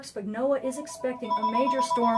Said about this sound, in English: Whoops, sorry about the phone.